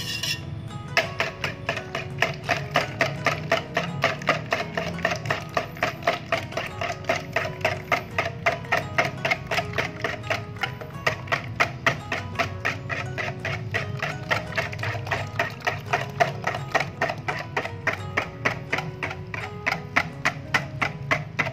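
Caramel cake batter being beaten until smooth with a steady, rapid ticking rhythm of a whisk or mixer against the bowl, continuous and close throughout, with a brief word spoken early on.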